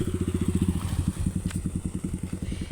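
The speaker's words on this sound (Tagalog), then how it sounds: "So tatabi tayo, guys, at may dadaang motor. Mga motorsiklo." A motorcycle engine on a road along a nature trail putters in a fast, steady low thumping rhythm close by, running throughout with a brief sharp click partway.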